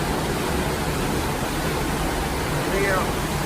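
Water sprays and rushes below a balcony on Deck 8 of the Holland America cruise ship Eurodam, a loud, steady, broadband hiss that continues without a break throughout.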